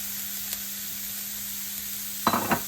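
Finely chopped broccoli cooks in a pan, giving a soft, even sizzle that ends in a few sharp scraping stirs.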